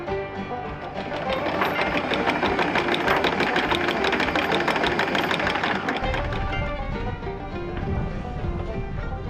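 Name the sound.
anchor windlass raising anchor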